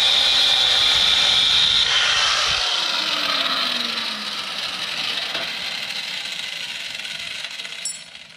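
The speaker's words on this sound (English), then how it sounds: "I've got just a cut off wheel, so I'm gonna cut this off real quick" A cut-off wheel grinds through a threaded rod during a truck suspension lift on a first-generation Tundra, a loud harsh whine with a high metallic screech that gradually winds down, ending in a light clink.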